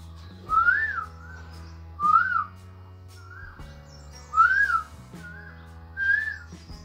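A man whistles in imitation of birdsong, four separate warbling, rising-and-falling calls spaced a second or two apart, close and clear over a faint low hum.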